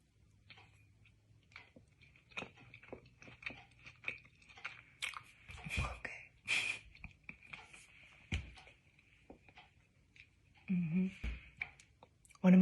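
Someone biting and chewing a homemade Twix bar with a flaky pie-crust base and a touch of chocolate, faint close crunches and soft mouth clicks scattered in bursts, with a quiet background hum.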